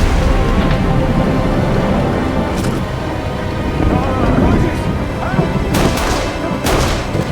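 Gunfire bursts out on a rainy cliff, with dense, loud rumbling and booming blended into a heavy wash of rain and roaring water, with sharper cracks standing out toward the end.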